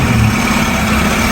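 A 2001 Hyundai Atoz with a manual gearbox idles steadily, its small engine making a continuous close, loud hum with a low drone and no breaks.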